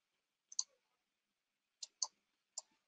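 Several sharp computer mouse clicks, close and fairly quiet, come in two groups with short pauses in between, alone with no talk.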